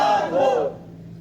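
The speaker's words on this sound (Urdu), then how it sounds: "نعرہ تو لگا لیا، ایک لگا کے چپ ہو جاتے ہو" A crowd at a religious gathering on Ghaus-e-Azam shouts a slogan in unison, a single loud chant of roughly half a second that cuts off quickly and leaves near-silence behind it.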